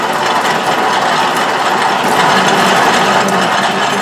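Metal lathe drilling with a drill chuck held in the tailstock quill, a loud, continuous grinding and chattering mechanical whir that holds steady throughout.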